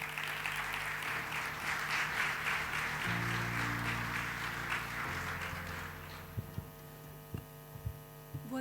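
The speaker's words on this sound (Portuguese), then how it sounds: "para quem eu peço uma salva de palmas" Full audience applause in a conference hall at a European funds exhibition opening, dense clapping for about six seconds over a steady electrical hum, then fading out to scattered last claps and the hum alone.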